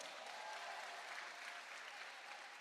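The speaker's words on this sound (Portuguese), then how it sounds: "Palmas para Silvano." A church congregation claps for a fellow member during a sermon, a dense, even patter of many hands that carries on for a few seconds, fairly distant and soft, with no voices over it.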